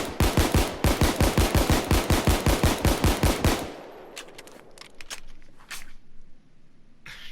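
M1911 Crosskill pistol in Payday 2, loaded with stacked attachments, fires a rapid run of about twenty loud, evenly spaced shots. A few faint clicks and handling noises follow in near quiet.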